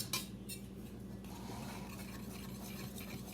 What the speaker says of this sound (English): Mix everything together with a whisk.